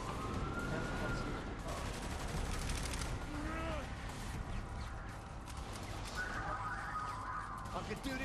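A three-round burst machine gun fires repeatedly in Saints Row the Third, rattling steadily alongside a wailing police siren and continuous game noise, while voices talk over it.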